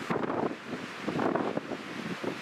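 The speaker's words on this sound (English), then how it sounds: "It is so windy up here." Strong wind buffets the microphone in rough, rumbling gusts, loud and close for a couple of seconds.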